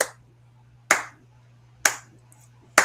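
A hand clap in a piece of music, struck three times at an even, unhurried pace. Each clap is crisp and close with a short decaying tail, over a faint steady low hum and otherwise near silence.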